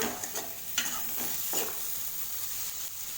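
Chopped tomatoes being stirred into masala in a hot pan for onion kurma, a steady frying sizzle with a few soft spoon scrapes, close and fairly quiet, no voices.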